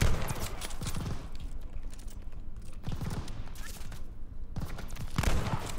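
Turret machine gun fire in Call of Duty Vanguard's campaign, loud rattling bursts of a few seconds each separated by short pauses, close, mixed with battle noise and voices.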